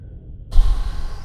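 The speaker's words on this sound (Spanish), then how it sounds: "Este silencio. Escuchar solamente tu respiración." A character in Mass Effect 2 breathes inside a suit in silent outer space: after near silence, a single close, soft, heavy breath rises and trails off.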